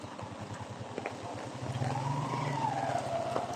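A motor tricycle passes along a flooded street, its engine putting steadily and growing louder as it nears, with a rising whine and a faint wash of water.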